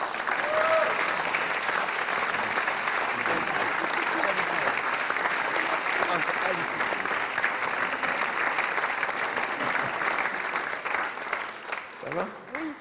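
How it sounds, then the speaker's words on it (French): Sustained audience applause fills a French television variety show after a hypnotist's act, steady dense clapping from a large crowd that holds loud throughout before thinning slightly near the end. "encore une fois, on les applaudit, mesdames et messieurs."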